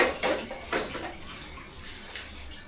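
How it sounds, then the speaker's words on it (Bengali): Boiled rice for homemade kacchi biryani is poured out into a sink basin, giving short gushing splashes of water, loudest at the start, that then fade to a soft trickle. "বেসিংয়ে তোমরা এইভাবে রাইসটাকে নামিয়ে নেবে।"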